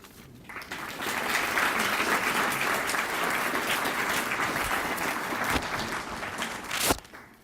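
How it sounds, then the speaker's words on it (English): Sustained audience applause at an academic celebration for a professor, a full, even wash of many hands building in the first second, holding steady for several seconds, then ending with one sharp loud clap and a quick fade. "may I request that you give a round of applause to these two professors in absentia."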